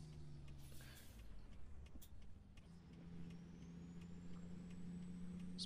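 Air brakes on a big rig in American Truck Simulator, sharp hissing bursts at the start and around two seconds over a steady low diesel engine drone, with a faint rising whine later on.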